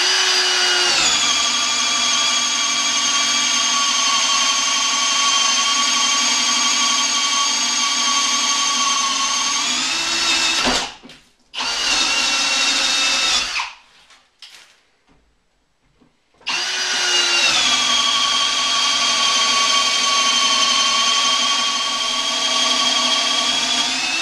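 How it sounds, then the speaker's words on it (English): A Milwaukee 18V brushless hammer drill on speed one at full torque drills steadily with a loud, high motor whine, cutting out briefly twice in the middle before running on again alone. "We're going to be drilling on number one speed just like Makita, and we'll do full torque just like Makita."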